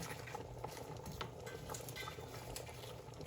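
Pork ribs sinigang soup with string beans, taro and watercress boils in a pot, a steady bubbling patter with small pops throughout, no voices.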